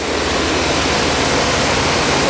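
Water rushes steadily and loudly during municipal valve exercising, a dense, unbroken hiss and roar that stays constant from start to finish.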